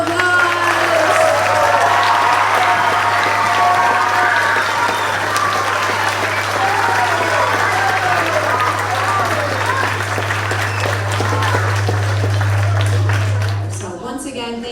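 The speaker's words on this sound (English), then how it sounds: "I think that we deserve to give all of our musicians one more big round of applause." A school spring concert audience gives the musicians a long, loud round of applause, dense and sustained for about fourteen seconds with some voices mixed in, before cutting off abruptly; a steady low hum runs underneath.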